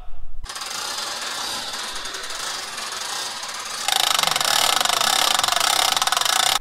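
A seed treater auger powered up, its mechanical whir and rattle starting abruptly and running steadily, then growing louder and harsher partway through as it continues alone.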